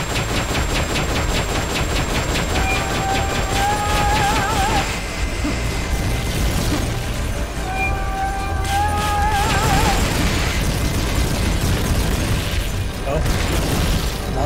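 Rockets pound a boss in the video game Metal Gear Solid: Peace Walker, a dense, continuous barrage of loud crashes and booming impacts, mixed with warbling electronic tones and voice-like sounds from the game.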